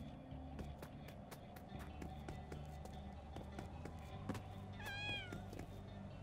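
A kitten meowing in the video game No More Heroes III, with a short rising cry near the end over steady game music and repeated ticking effects.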